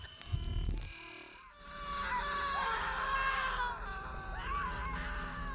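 Agonised screaming in the Observer System Redux video game, several anguished wailing cries rising and falling over a dark, droning background after a short burst of noise.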